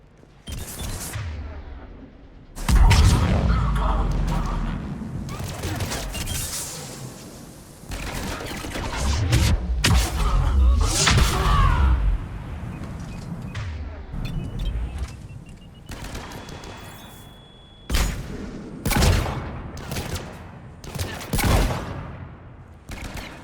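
Sustained gunfire on Omega in Mass Effect 3, with loud bursts of automatic weapons and fusillades repeating in rapid clusters across the whole stretch, broken by short pauses.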